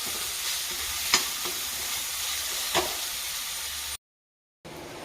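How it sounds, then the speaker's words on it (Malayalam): Taro leaves being stirred into garlic and onion frying in a pan give a steady, close sizzle with a couple of scraping strokes. The sound cuts out briefly, then the sizzle resumes. "അതിലേക്ക് നമുക്ക് ആ ചേമ്പിൽ അങ്ങോട്ട് കറക്കിയിട്ട് യോജിപ്പിച്ച് കൊടുക്കാം"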